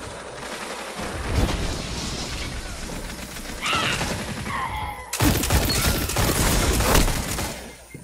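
Rapid, close gunfire from a gun in Destiny 2 multiplayer crackles in dense bursts, with a pause in the middle and then a louder sustained volley toward the end.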